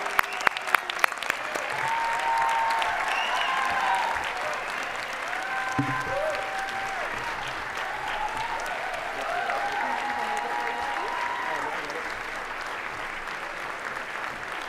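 Audience applause at a 2025 Dr. Martin Luther King Jr. birthday celebration for an Emerging Leadership Community Service Award recipient, a steady full-room clapping that holds for the whole stretch with a few voices over it.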